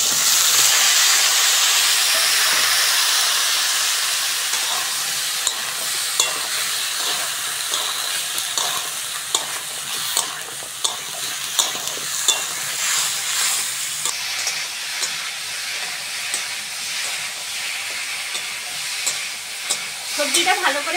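Vegetables sizzle and hiss in hot oil in a pan over browned onion, with intermittent scraping stirs for a shrimp curry; a steady, close frying sound continues throughout with no talk.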